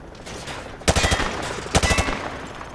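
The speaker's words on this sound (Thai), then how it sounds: "He sprayed bullets all over the damn place" Two short bursts of automatic machine gun fire from Call of Duty: Modern Warfare 2 Remastered, close and loud, about a second apart, over a low background hum.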